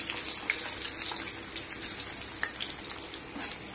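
Urad dal and mustard seeds crackle and sizzle in hot oil for a sambar tempering, a dense continuous fizzing with scattered pops, steady and close with no talking.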